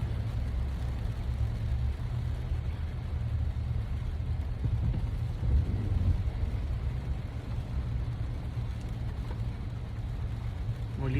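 Road traffic on a rainy morning makes a steady, low rumble of passing vehicles that swells gently now and then. It comes from a moderate distance, with no talk.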